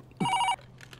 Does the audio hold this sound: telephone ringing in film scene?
yes